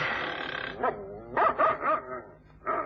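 Several dogs barking in short, loud bursts with brief pauses between them, a few sharp barks then a final volley.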